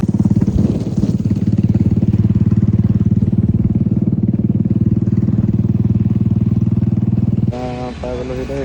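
A motorcycle engine runs steadily with a loud, close, even mid-range drone for most of the ride, then eases toward a lower idle near the end, while a voice talks over the last stretch.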